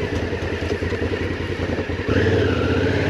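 A Honda Africa Twin motorcycle engine chugs steadily and clatters over gravel and a small boulder field off-road, then rises to a louder, higher rev partway through, close and continuous.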